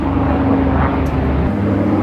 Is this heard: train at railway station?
no